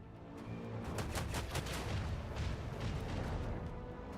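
Rapid volleys of ship weapons fire from the Rogue Trader video game, a dense, sustained barrage of repeated cannon-like bursts over a low rumble, loud and continuous with no voices.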